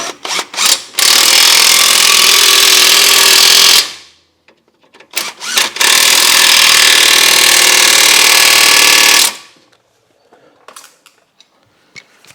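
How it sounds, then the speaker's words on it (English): An impact wrench tightens 19 mm strut bolts on a 2015 Subaru Outback, with two long, loud, close bursts of buzzing rattle, each preceded by short taps, followed by quiet handling noises. "grab our impact wherever that is"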